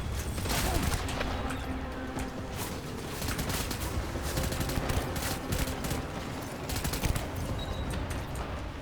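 Rubber-round gunfire in Death Stranding: steady, busy firefight with repeated sharp shots and bursts layered over a constant combat din, fairly quiet overall and without a clear break.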